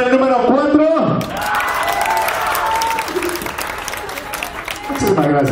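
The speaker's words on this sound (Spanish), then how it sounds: "el aplauso para el número 4" An audience applauds contestant number four at a lighthearted show of handsome men in Zapopan, with a steady burst of clapping and crowd noise lasting several seconds between a man's speech at the start and the end.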